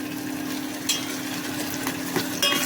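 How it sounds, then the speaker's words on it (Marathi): Chillies for dal bhat go into a hot pan and sizzle steadily, with a few clinks of a utensil stirring near the close. "ह्या मिरच्या आहेत, आणि आपण आता याच्यामध्ये टाकून घेऊया"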